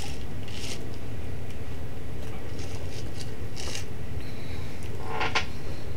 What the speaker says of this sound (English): You'll see how I'm swishing this back and forth.